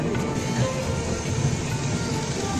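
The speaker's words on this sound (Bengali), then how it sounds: "এখন ট্রেনটা খড়গপুর ছেড়ে দিল" A passenger train pulls out of Kharagpur station bound for Balasore in Odisha, giving a steady close rumble with faint rhythmic wheel clatter and no voices.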